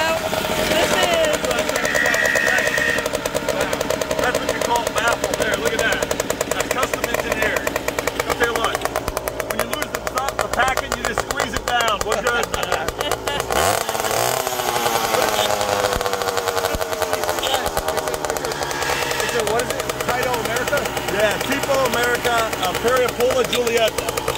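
A two-stroke moped engine, a Cross 50 with a heel-toe shifter, runs with a continuous nasal buzzing rattle that dips and rises in pitch around the middle, loud and close with people talking over it.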